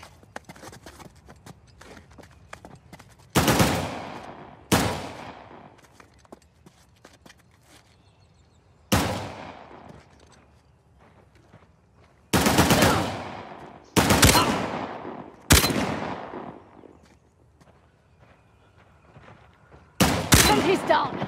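Gunfire in the video game Uncharted: The Lost Legacy: sharp, loud single and clustered shots with decaying echoes, spaced irregularly across a tense firefight, with quieter ambient sounds between them.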